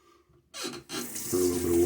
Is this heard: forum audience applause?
no